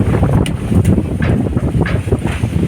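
Gusty wind buffets the microphone in low, rumbling bursts, continuous and fairly loud throughout.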